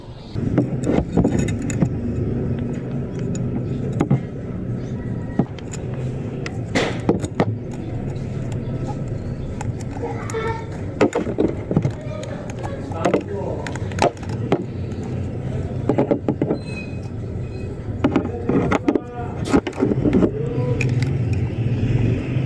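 A Suzuki Raider Fi 150 motorcycle fitted with a DIY ram-air intake and velocity mesh runs in a steady, rattly engine drone, close and loud, with uneven revving bursts and clatter throughout.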